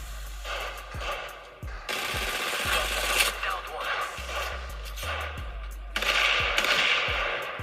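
Rapid bursts of gunfire from a mobile shooting game played on a Poco X3 NFC phone, repeated volleys with short gaps, loud and continuous, while a person talks over it.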